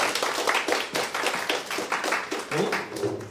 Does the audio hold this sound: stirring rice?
no